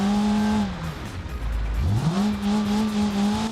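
A Tango rally car in the BeamNG video game revs loudly, its engine note dipping sharply as it shifts or lifts off, then climbing again into a steady high drone.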